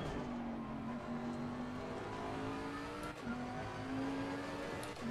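Bentley Continental GT3 2018 race car engine in Assetto Corsa Competizione at Kyalami, a steady droning engine note that climbs gradually through gears with one brief shift dip, loud and continuous with no talk.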